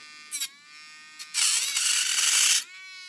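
An electric nail drill motor whirs up to a steady high-pitched buzzing hum for about a second, close and loud, after a couple of short clicks and a faint lower idle tone.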